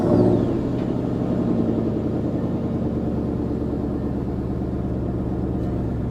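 A Ford Mustang Boss 302 with GT500 axle-back exhausts sits at a conventional idle: a deep, even, throbbing V8 rumble, close and steady, with no voices.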